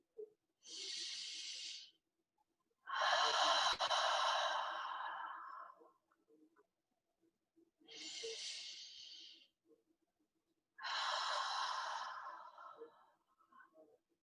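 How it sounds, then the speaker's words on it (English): Slow, deep breaths during a meditation session, four long airy inhale-exhale sounds separated by quiet pauses, close and fairly soft, with no talking. "I want us to take a few deep breaths"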